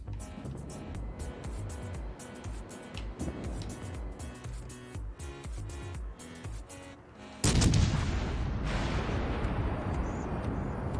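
Warship guns fire in a World of Warships Legends naval battle: a loud burst of heavy gunfire erupts about two-thirds of the way through and rumbles on, following a stretch of busy game sound and music.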